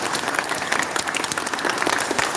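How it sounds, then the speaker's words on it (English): Audience applause at a live ministry gathering, a dense, steady wash of many hands clapping close and loud with a few cheers mixed in, filling the whole moment without pause. "Let's stand and give him a round of applause."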